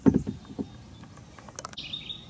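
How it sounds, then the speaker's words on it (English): Birds call along the Baraboo River, with a few soft chirps and tweets over quiet water and faint paddling noise on a calm upstream stretch. "There are bird noises, but no ducks, no herons, no water birds."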